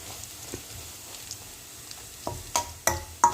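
Soya 65 frying in a little oil, a soft low sizzle with stirring noises, then three sharper scraping clinks toward the end.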